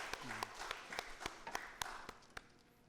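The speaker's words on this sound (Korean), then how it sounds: "영광의 박수 올려드리겠습니다." During a Sunday church service the congregation gives a brief round of applause, heard as sparse, distinct claps spaced unevenly and fairly faint in a quiet room.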